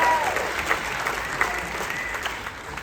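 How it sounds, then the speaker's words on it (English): Theater audience on a Royal Caribbean cruise ship applauding a comedy show: a continuous wash of clapping, moderately distant and even, with a faint voice over it at the start. "Give Annalise a round of applause."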